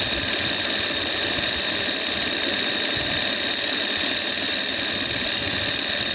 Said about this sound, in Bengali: এটা হাই ওভারলক করে নিতে হবে